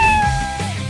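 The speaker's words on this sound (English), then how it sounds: "Do you hear the cat?" A cartoon cat in a kids' rescue game lets out a single clear, drawn-out meow, loud and close, with soft game music underneath.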